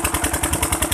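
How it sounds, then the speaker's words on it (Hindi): An irrigation pump engine runs loudly in a field, its steady chugging beat pulsing several times a second with a clattering, idling rhythm and no voices. "यहाँ पर इंजन की आवाज़ हमारी आवाज़ से ज़्यादा तेज है"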